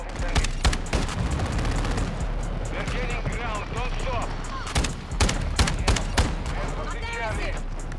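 Rapid game gunfire in Call of Duty: Modern Warfare II aimed at an aircraft, dense crackling bursts running throughout at close range, with overlapping voices and chatter in the mix.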